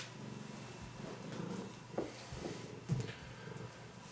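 A pet cat purrs softly and steadily close by indoors, a low continuous rumble with a couple of faint taps and no talking.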